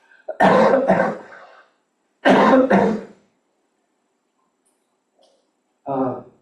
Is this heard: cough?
yes